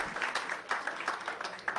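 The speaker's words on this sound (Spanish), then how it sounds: "Un fuerte aplauso para él, por favor, también." Audience applause at a closing seminar for an AECID project, a dense continuous patter of clapping from a seated crowd, moderate in level and with no voices over it.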